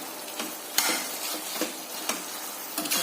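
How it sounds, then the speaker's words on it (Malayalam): Mango pickle bubbles in a pan with water and salt, hissing steadily while a spoon scrapes through it in regular strokes about once every half second, close and loud with no talking. "മാങ്ങ അച്ചാറ് തിളച്ച് എടുക്കുന്നു."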